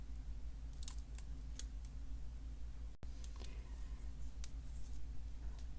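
Scissors snipping thread pieces for a bead bracelet at a craft table, a few quiet crisp cuts and small handling clicks over a low background hum, no talk.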